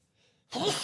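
A single sudden sneeze bursts out of near silence at the end, loud and close, in a live sports talk show setting.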